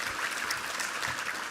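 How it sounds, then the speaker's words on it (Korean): A church congregation claps during a Sunday worship service, a moderate, steady patter of many hands filling the room, heard without speech. "우리 하나님께 감사와 영광의 박수 올려드리겠습니다"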